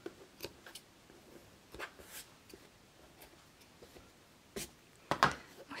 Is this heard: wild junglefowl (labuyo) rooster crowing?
no